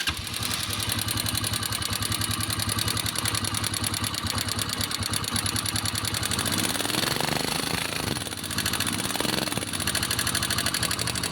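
A motorcycle engine idles with a rapid, even mechanical clatter at close range. The engine has trouble with oil not climbing to the top end, and a busier rattling overlay joins in midway.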